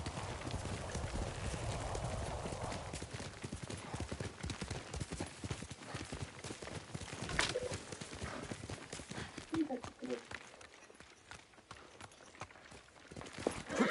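Horse Kage galloping in Ghost of Tsushima, rapid continuous hoofbeats under wind and rushing noise, loud and close, with voices talking over it.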